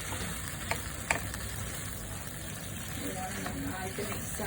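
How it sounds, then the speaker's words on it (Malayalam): Prawns being mixed with masala in a hot pan for prawn biryani, giving a soft steady sizzle and hiss with a couple of light stirring clicks, close but fairly quiet. "ഇത് മസാലയായിട്ട് നല്ലോണം ഒന്ന് മിക്സ് ആക്കി എടുക്കാം"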